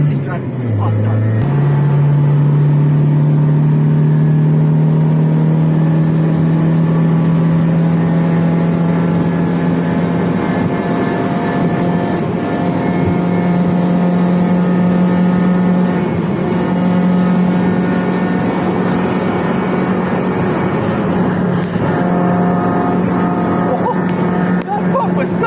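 Engine of a Mazda MX5 drift car droning steadily and loudly close by, holding a sustained tone with slight pitch shifts as it revs, with no break for the whole stretch.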